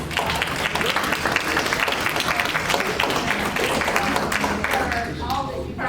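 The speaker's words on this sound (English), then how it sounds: "let's give these guys a wonderful round of applause" An audience at a community talk on medical emergencies breaks into steady, full applause for emergency responders, a thick wash of clapping that holds at a constant level from start to end.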